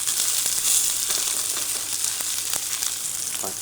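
Steady loud sizzle and crackle of a steak searing in a hot pan while pressed down with tongs, close and continuous, with small pops throughout.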